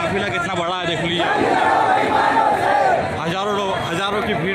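Thousands of Bhim Army supporters at a rally in Madhya Pradesh roar and chant together, a loud, close wall of crowd voices with rhythmic slogan shouts swelling and falling across the stretch.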